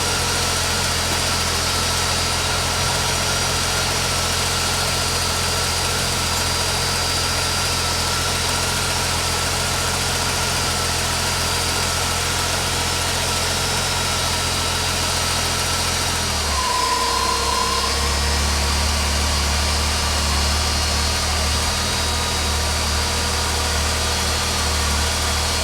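A Ford 200 inline-six engine with a Holley Sniper 2300 and Hyperspark idles steadily through cam break-in, loud and close with a constant drone, then shifts to a lower, rougher note partway through.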